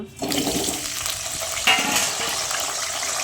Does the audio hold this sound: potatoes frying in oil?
yes